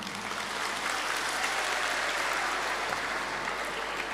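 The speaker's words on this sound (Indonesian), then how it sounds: "Ya boleh tepuk tangan nih" Sustained applause from a seated audience at a religious talk, an even, continuous patter of many hands at moderate volume with no voices over it.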